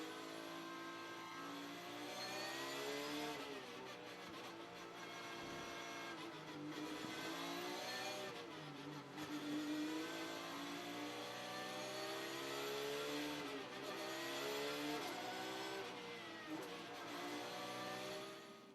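A Porsche GT race car in the ADAC GT Masters at Oschersleben accelerates hard on a restart, its engine note climbing steadily through gear changes, loud and close as if heard from on board, with no talk over it.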